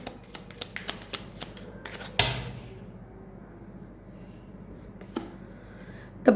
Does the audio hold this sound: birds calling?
no